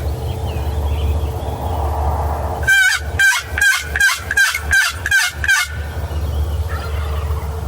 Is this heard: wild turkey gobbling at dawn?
yes